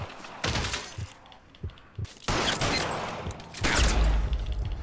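Gunfire in L.A. Noire during a shootout, a few sharp shots spaced irregularly among game noise and a thumping impact near the end, all fairly loud.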